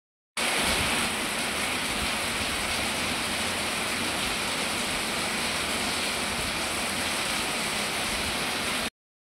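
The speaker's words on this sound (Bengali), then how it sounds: "আর মুষলধারায় বৃষ্টি হচ্ছে বন্ধুরা" A heavy monsoon downpour roars as a dense, unbroken hiss that stays loud and even throughout, with no voices.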